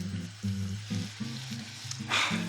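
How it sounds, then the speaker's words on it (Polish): Onions sizzle and crackle in hot coconut oil, a close, continuous frying hiss with a low hum underneath and a brief louder burst near the end. "jest czas smażenia mojej cebuleczki skwierci idealnie"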